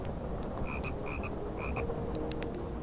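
A frog croaks in a fantasy-themed ASMR scene, a few short chirping croaks in a quick group over a dense, steady background of rain-like hiss, followed by faint clicks.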